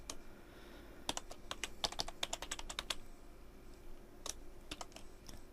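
Computer keyboard typing in quiet irregular bursts of crisp clicks, with a flurry of keystrokes across the middle and a few more taps near the end, no talking.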